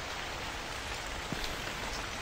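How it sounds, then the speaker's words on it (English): Loud, dense rain pours steadily in the horror game The Convenience Store, a constant hiss of drops hitting surfaces with no voices. "That shift between the quiet music and the loud rain is so awful."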